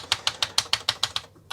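Keys on a Commodore 128D keyboard are pressed in a quick, even run of about eight crisp clicks, then a short pause and one more press, close and clear with no talk.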